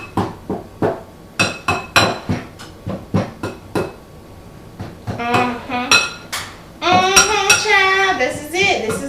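Pie crust dough being worked with lard in a bowl, heard as a run of sharp, rhythmic clinks and knocks of a utensil against the bowl, close and loud. Someone talks over the later part.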